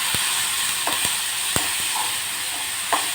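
Turkey berries (sundakkai) sauté in a pan, giving a steady bright sizzle with scattered pops and sharp clinks of stirring, close and without talk.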